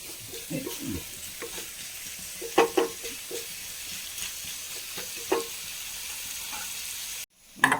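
Spiced parippu lentil curry stirred in a pan, Thrissur style, with soft scraping and light sizzling plus a few sharper knocks of the spoon, quiet and close, ending in a brief silence.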